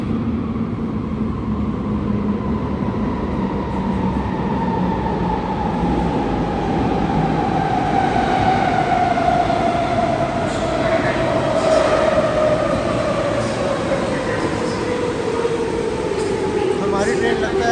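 A metro train rumbles through an underground station in Athens, its steady roar and a slowly falling wheel-and-motor tone sustained throughout, loud and close, with voices talking over it.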